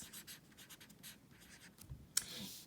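A word is handwritten on paper, with soft quick scratchy strokes in short bursts, faint and close, with no talking.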